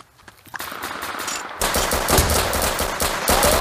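Rapid automatic gunfire bursts in a first-person shooter game raid, starting faint then turning into loud, dense sustained firing up close.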